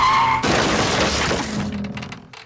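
A bathtub shatters in the Family Guy pinball video game: a loud, sudden crash of breaking debris bursts in after a brief tone, then scatters and fades into lighter clattering fragments.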